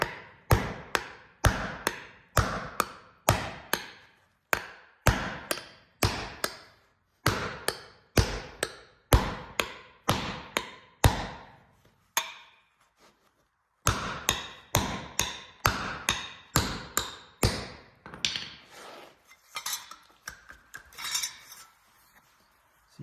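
Hammer blows pound the sheet metal of a 1971 Datsun 510's rear corner, rapid bursts of sharp metallic taps in rhythmic runs with brief pauses, close and loud with no talking.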